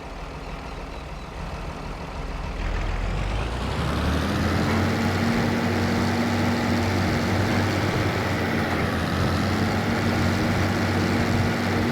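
A farm tractor engine rises to a steady, loud drone after a couple of seconds and holds a constant low hum, running alone on a snowy farm.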